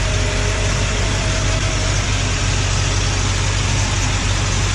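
A pickup truck engine, recently replaced and slightly warm from a drive, runs steadily at idle with a continuous low rumble and broadband roar, loud and close throughout with no voices.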